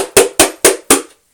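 A wooden cage hut tapped to knock dirt out, four sharp, evenly spaced knocks, loud and close, with no talk.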